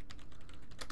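Quick, soft keystrokes clatter on a computer keyboard during a brief burst of typing, several taps in a steady run at close range.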